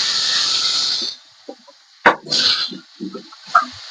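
Potatoes hitting hot oil seasoned with five-spice, a loud steady sizzle that cuts off, then a burst of hissing spatter with scattered crackles and pops.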